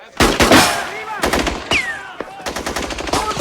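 Heavy gunfire during a sniper attack on a rooftop, loud bursts of rapid shots in close succession, with shouted voices mixed in.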